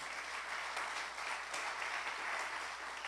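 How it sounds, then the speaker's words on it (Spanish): A congregation applauds during a church service, a steady wash of many hands clapping that sounds soft and somewhat distant, continuing evenly without voices on top. "Alguien dele un aplauso al Señor."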